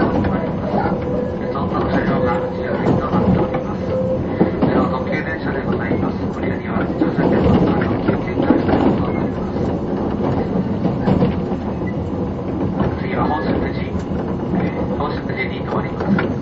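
A JR 185 series 200-subseries limited express train running between Shinjuku and Kuroiso, heard from inside as a steady, loud rumble with rhythmic wheel clatter, while a voice speaks over it.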